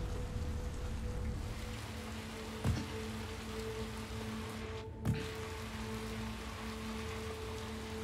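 Steady rain patters in the video game Little Nightmares 2, a continuous soft hiss of drops with a couple of faint thuds, heard alone under a low ambient tone.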